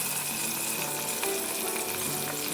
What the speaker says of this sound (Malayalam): ചൂടായി കഴിഞ്ഞാൽ ഒരു 3 വലിയ ഉള്ളി സ്ലൈസായി അരിഞ്ഞത് ഇട്ട് കൊടുക്കാം